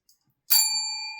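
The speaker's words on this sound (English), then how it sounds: "She loves to ring that bell." A single bell is struck once, giving a bright, close ding that rings on and slowly fades after a moment of near silence.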